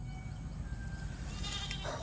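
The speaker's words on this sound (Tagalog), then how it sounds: "So kaya kaya pala sobrang rami pala tol ng kambing dito." Goats bleating faintly in the distance over a constant low rumble of wind or background noise.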